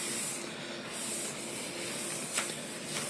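WD-40 aerosol sprayed onto paper drawings, a steady close hiss running throughout with brief pauses and small surges in pressure.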